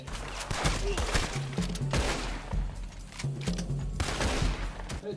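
Gunfire in Red Dead Redemption 2 Online, a quick succession of rifle and pistol shots fired in a few close, loud clusters over continuous outdoor game ambience.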